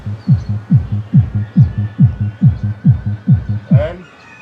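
A low bass test tone plays through a dual amplifier and crossover setup, pulsing in about ten regular deep thumps that are loud and close, then fading out near the end.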